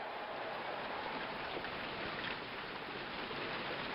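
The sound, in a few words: rain ambience in APBA PC Baseball video game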